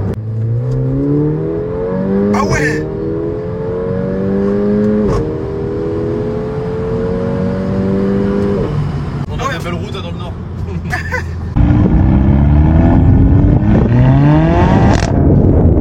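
Mercedes A45 AMG engine revving hard under full acceleration on a road, rising and falling through several gear changes, loud and close, with people talking over it.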